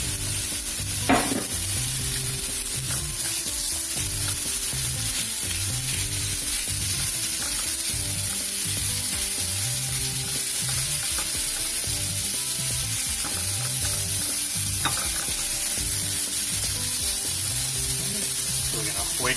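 Mushrooms and onions fry in oil with a steady, even sizzle, broken by soft rhythmic scrapes of stirring throughout.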